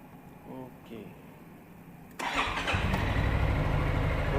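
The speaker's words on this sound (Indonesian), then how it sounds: "Oke, hidup ya motornya." A Yamaha X-MAX scooter, its rusty fuel tank and fuel line just serviced, cranks and fires up midway, settling into a loud steady idle close by, with someone talking briefly before it starts.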